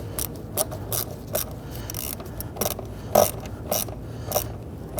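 A ratchet wrench clicks in a quick, uneven series of sharp ratcheting bursts while removing the front valve cover on a 2010–2019 Ford Taurus, close and fairly loud, with no talking.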